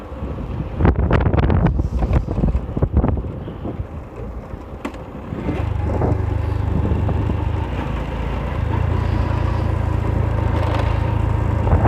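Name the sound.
strong wind blowing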